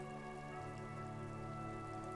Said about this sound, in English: A yard, rain falls onto the roof of a woodshed.